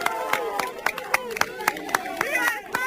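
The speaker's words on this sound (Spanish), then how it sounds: "Entre algunos aplausos y algunos vivas." Scattered claps and cheers from a street crowd during an afternoon walkabout in Petra, Mallorca, uneven bursts over steady voices and chatter.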